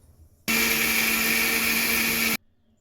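Mixer grinder blending onion, tomato, ginger, garlic, cloves, cinnamon and spices into paste: a loud, steady electric whir that starts abruptly, runs for about two seconds alone, then cuts off sharply.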